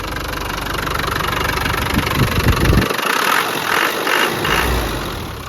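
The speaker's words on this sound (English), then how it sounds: "Real good sounding diesel motor." Close, steady rumble of a Land Rover Wolf Defender 90's 300Tdi diesel engine idling with a knocking clatter, continuous throughout with no talking.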